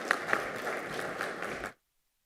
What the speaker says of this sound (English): So a round of applause for Wasim as well.